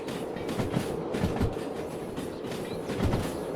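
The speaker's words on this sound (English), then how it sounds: "I'm going to apply a lot more train brake." Train braking and slowing down in the railway game Derail Valley, a steady rolling rumble with rhythmic clickety-clack wheel beats and faint squeal, continuous and fairly loud with no talk.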